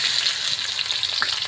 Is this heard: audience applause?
no